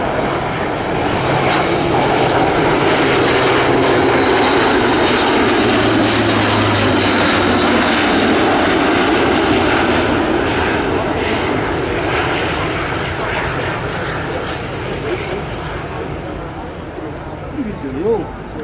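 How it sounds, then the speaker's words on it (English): An Airbus A400M Atlas C1 military transport aircraft flies past at the RAF Cosford airshow, its loud, continuous turboprop roar sustained throughout, with a commentator speaking over it. "In then from the right, the Atlas C1."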